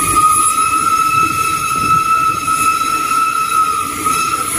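A special steam-locomotive excursion train runs past near the old Bang Khen station in Bangkok, a loud, steady rumble of rolling wagons with a sustained high metallic ring over it, continuous and close throughout.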